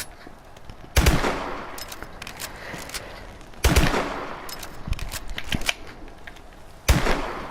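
The NA-45 weapon firing in the video game Call of Duty Advanced Warfare: three loud, sharp shots spaced a few seconds apart, each followed by mechanical reloading clicks and clatter, with no talking.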